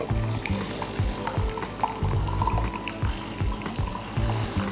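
Water from a GRAEF Contessa espresso machine pours into a glass for tea, a continuous splashing trickle close by, with light clinks and handling noises mixed in.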